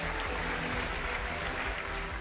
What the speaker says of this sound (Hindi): तालियों के साथ दिखाइए